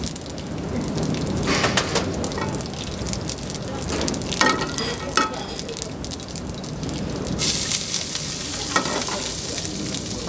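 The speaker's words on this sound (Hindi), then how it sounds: "अब इसमें जैसे ही मस्टर्ड ऑयल रेडी हो जाएगा, उसके बाद इसमें साबुत सीड्स, कोरिएंडर सीड्स डालेंगे" Whole cumin and coriander seeds frying in hot mustard oil give a steady, close crackling sizzle that runs throughout, with brighter bursts of spitting near the end.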